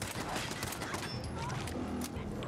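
Automated turret gunfire in the video game Fallout 4, a dense continuous fusillade of shots filling the whole stretch at steady loudness with crackling impacts on top.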